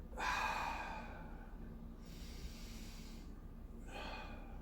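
Slow, deep breaths during a seated neck stretch, a soft near inhale and exhale repeating a couple of times, quiet and alone.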